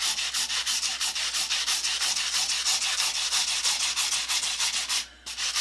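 Metal file rasping across aluminum on a workbench, a rapid run of even back-and-forth strokes, close and loud, with a short pause near the end before it resumes; no talking.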